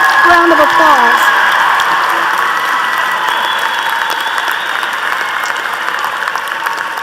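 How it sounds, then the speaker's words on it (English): A commencement audience applauds graduating students with loud, dense clapping that fills the clip and stays steady before tapering slightly, after a brief voice at the start. "Please give these outstanding students a round of applause"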